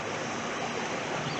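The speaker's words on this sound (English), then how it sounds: "the water's really overflowing" Swollen stream overflowing with snowmelt, a close, loud, steady rush and gurgle of water filling the brief moment.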